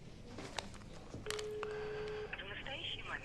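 A telephone being dialed: a few short key tones, then a steady line tone and brief electronic beeps, with quiet background noise around them.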